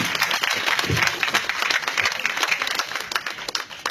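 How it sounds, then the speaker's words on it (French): Audience applause in a hall at a political campaign launch event, a dense patter of many hands clapping continuously, moderately loud and slowly thinning toward the end. "je vous invite à applaudir Louis-Philippe"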